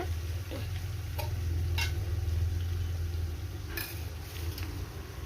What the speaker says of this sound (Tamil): இது ஹோம்மேட் கரம் மசாலா, அது ஒரு 6 ஸ்பூனை அதில் போட்டுக்கலாம். அது லேசாக எண்ணெயில் வதக்குங்க.